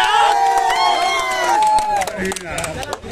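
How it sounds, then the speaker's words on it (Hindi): Audience members at a grape-eating challenge clap and cheer loudly, with excited shouting and whooping voices over scattered sharp handclaps that thin out toward the end. "ताली बजा दो यार।"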